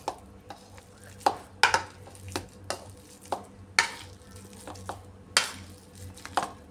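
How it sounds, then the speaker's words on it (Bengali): Boiled potatoes being mashed with a potato masher, heard as irregular soft thuds and squelchy presses with occasional sharper knocks against the pot. "এইভাবে একটা স্ম্যাশার দিয়ে আলুগুলোকে স্ম্যাশ করে নিচ্ছি।"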